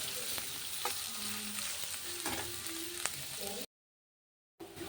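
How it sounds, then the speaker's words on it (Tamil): Sliced onion sautés in a pan with a soft, continuous frying sizzle broken by occasional scraping stirs, going briefly silent before the sizzle resumes near the end. "இதை நான் ஆட் பண்ணிக்கிறேன். இது நல்லா ஒரு கோல்டன் பிங்க் கலரில் வர வரைக்கும் இதை வதக்கிக்கலாம்."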